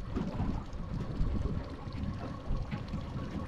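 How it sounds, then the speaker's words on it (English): Wind buffets a drifting fishing boat on Puget Sound, a constant low roaring rumble of gusts against the microphone with faint water wash underneath, steady and close with no voices. "The wind's coming up."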